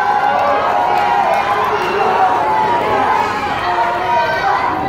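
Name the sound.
wrestling crowd cheering loudly for Omega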